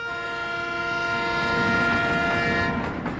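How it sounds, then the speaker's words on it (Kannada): A passing train blasts a loud, steady horn with rich tonal layers over the low rumble of rolling wagons, holding for several seconds before fading slightly. "ಟ್ರೈನ್ ಹೋಗ್ತಾ ಇದೆ"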